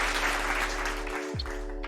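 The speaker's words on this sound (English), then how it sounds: "Oh, cue the applause." A cued applause sound effect plays on a flight-simulation stream, giving a dense wash of clapping that fades out over about two seconds.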